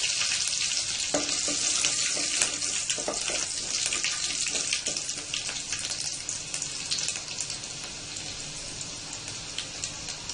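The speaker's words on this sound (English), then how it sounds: "Just started sputtering, so I will add this green chilies" Green chilies frying in sputtering hot oil for a Maharashtrian cauliflower sabji, a loud, steady crackling hiss with scattered sharp pops running the whole way through, no voices.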